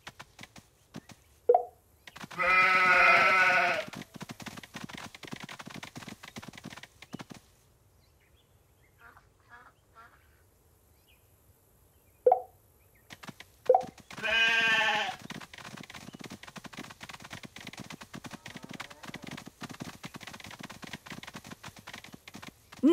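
Two drawn-out sheep bleats in the Paw Patrol Academy game, each lasting about a second and separated by long stretches of soft clicking and faint game sounds.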